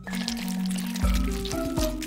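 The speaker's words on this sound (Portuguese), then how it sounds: "Vou colocar o molho nos meus ovos." Sauce being poured onto eggs in a home kitchen, a soft liquid pour with a few low glugging drips near the end, close and moderately loud with no talking.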